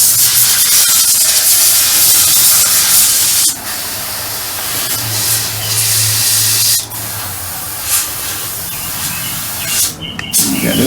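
Airbrush spraying paint on model tank road wheels: a close, continuous airy hiss with short pauses and a low compressor hum beneath, without speech.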